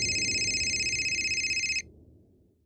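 Electronic telephone ringing for an incoming call in a police station crime drama, a steady warbling ring that stops partway, leaving quiet room tone.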